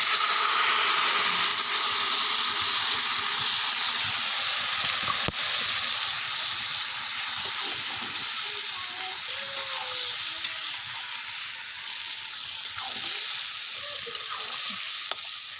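Fish frying in a pan gives a loud, continuous close-up sizzle and hiss, with occasional faint clicks and stirring sounds beneath it and no voices.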